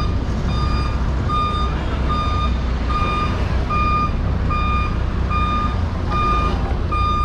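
A tow truck sounds its reversing alarm, a loud, evenly spaced series of about a dozen sharp beeps over a steady diesel engine rumble, heard close with no talking.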